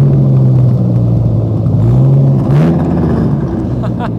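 A Dodge Viper V10 engine idles with a deep, steady rumble, its pitch dipping and rising slightly, heard up close from the rear of the car.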